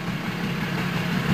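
A freshly repaired motor idles at a log-hut building site in the Komi region near Ukhta, making a steady, close low drone that holds evenly for the whole moment with no voices over it.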